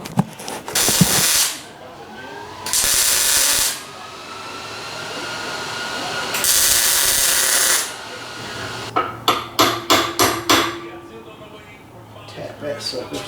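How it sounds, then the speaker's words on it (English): Tack welding on car parts gives several long hissing, crackling welder bursts, then a rapid series of short tacks. People talk at times in between. "and I'll actually weld it."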